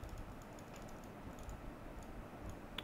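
Quiet, rapid clicking of keys on a computer keyboard as a command is typed into a Windows command prompt, close and steady with no talk.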